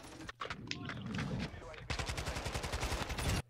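Rapid automatic gunfire in Call of Duty Modern Warfare II rattles in loud, dense bursts, with a brief gap before a sustained stream of shots.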